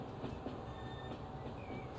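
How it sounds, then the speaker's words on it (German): A freight train with two locomotives rolls along in Transport Fever 2, giving a steady, low rumble with faint wheel squeals and thin metallic tones drifting above it. "Dort steht ein Güterzug drin, auch eine schöne Doppeltraktion."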